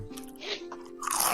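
Someone crunches food while eating, with a few close, crisp bites and chews in two short bursts against a quiet background with a faint steady hum.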